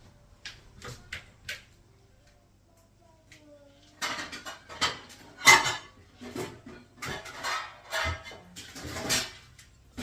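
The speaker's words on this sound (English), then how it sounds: "I'll use a lid like that to help cook it really good." A lid set on a cooking pan while homemade lasagna cooks, giving several sharp metallic clinks and clatters of cookware after a quiet start, close and fairly loud.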